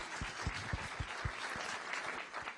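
An audience claps steadily for Eric Pires, an IBEW Local 103 electrical apprentice from Dorchester, at a workforce apprenticeship event. The applause is a dense, sustained wash with some sharper individual claps, and no voices are heard over it.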